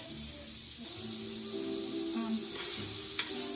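Butter sizzles in a very hot pan before a steak goes in, a soft, steady frying hiss with a few faint clinks on top.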